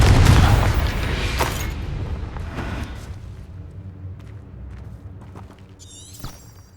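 A Confringo spell in Hogwarts Legacy bursts into a loud, booming explosion that rumbles and slowly decays over several seconds, ending with faint mechanical clinks and a brief magical chime.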